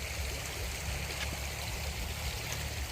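Stream flowing beside a four-rai land plot in Chaom, Kaeng Khoi, Saraburi, Thailand: a steady, even rush of running water fills the whole stretch at moderate level, with no voices.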